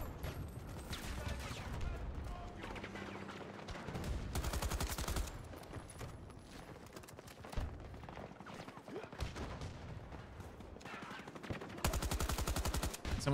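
Gunfire in Battlefield 2042 rattles in repeated automatic bursts, some dense and loud, others scattered and more distant, mixed with game effects throughout.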